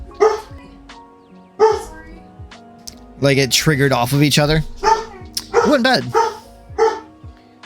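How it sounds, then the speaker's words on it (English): A dog barks repeatedly indoors in the background, loud sharp barks and yips scattered across the clip, mixed under someone talking steadily over them. "Sorry about the barky dog."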